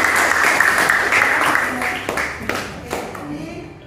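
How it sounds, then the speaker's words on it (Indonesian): A classroom group claps together during a lesson, a lively burst of applause that thins out into a few scattered claps and fades away. "Oke, kasih tepuk tangan dulu"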